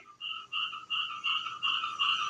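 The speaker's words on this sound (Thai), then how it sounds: "คางคก มันร้องข้างๆกุฏิเนี่ย" Toads croak at night beside a monk's hut, a regular series of about six pulsed calls, fairly close and clear with no voices.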